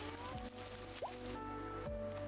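In the Hello Kitty Island Adventure video game, plants are watered with soft squishy splashes and brief chiming tones over a steady, gentle game music bed.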